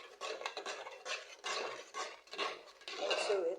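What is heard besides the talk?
adding crayfish into a pot of simmering jollof sauce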